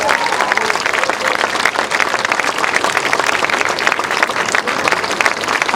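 Loud, dense applause from a crowd at a French political rally, sustained clapping with no breaks from start to finish.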